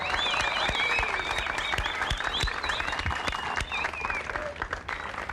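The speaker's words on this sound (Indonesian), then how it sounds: "Saya harap kalian semua memberikan tepuk tangan yang semeriah-meriahnya untuk Hotel Bali Cliff." A crowd at the Hotel Bali Cliff gives sustained applause during a show, dense clapping with scattered whistles and cheers rising above it, continuing steadily at moderate loudness.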